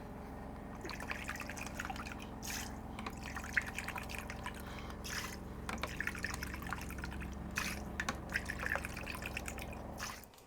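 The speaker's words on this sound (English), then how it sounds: "I'm going to put 5 cups of your pickling vinegar," White pickling vinegar poured into a pot for mixed mustard pickles, a steady, close stream of liquid trickling and splashing for several seconds before it tapers off.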